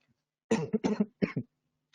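Several short, dry coughs in quick succession, close and fairly quiet, with silence before and after.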